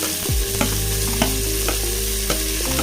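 Tomatoes fry in a pan of ginger-garlic paste for a dried prawn curry, a loud close sizzle with periodic scraping stir strokes, no talk.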